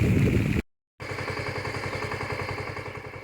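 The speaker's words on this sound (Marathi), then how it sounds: "हा जो मिनी ट्रॅक्टर दिसतोय याला टिल्लर बोलतात।" A small two-wheel tiller, a mini tractor, churns a flooded rice paddy into mud in the rain. Its engine chugs in a steady, loud, rapid rhythm that cuts out briefly to silence, then resumes unbroken.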